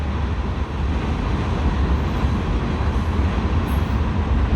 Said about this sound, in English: The trains are rolling, things are moving.